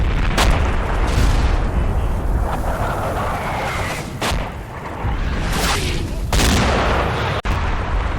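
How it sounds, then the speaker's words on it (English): A heavy artillery barrage from the video game Combat Mission: Red Thunder pounds a gun position: dense, continuous rumbling blasts with several sharper booms standing out and a sudden crack near the end. "the enemy puts down a heavy barrage on the position of our gun"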